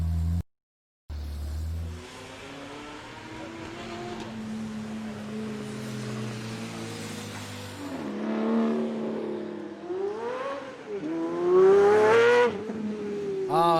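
A Pagani Zonda engine roars through a Goodwood lap, heard as a recording played back. The engine note drones, then rises and falls through repeated revving swells and shifts, and it climbs to a loud high-pitched wail near the end.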